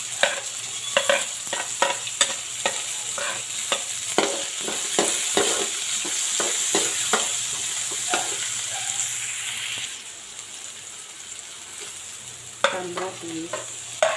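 Ginger and onion sautéing in a pan for fish escabeche, a continuous close sizzle punctuated by repeated spatula taps and scrapes, easing to a quieter fry partway through before more stirring clatter.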